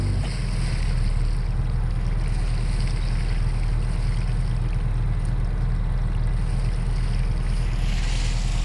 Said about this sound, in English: There is a lot of power in that motor.